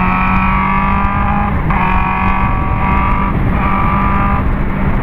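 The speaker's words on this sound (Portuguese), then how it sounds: "A motinha esportiva aí, ó." A BMW S1000RR sport motorcycle engine runs loud and close in a steady high-pitched drone, its tone stepping up and down in a few short surges, with no voices.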